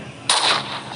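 A single sharp gunshot from a gun in the Roblox video game bursts in loud and sudden, then decays in a lingering rumble with no voices.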